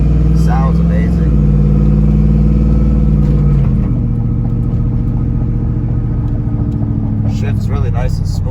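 A truck engine runs steadily and loudly while shifting up through its gears, with pitch steps around 1 and 4 seconds and faint voices underneath.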